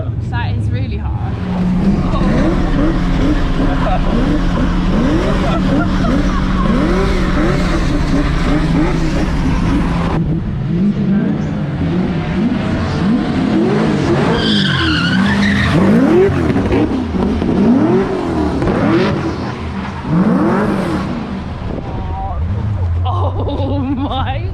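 A Lada car drifting with its engine revving hard, repeated rising and falling revs and squealing tyres, close and loud, with people talking excitedly over the engine.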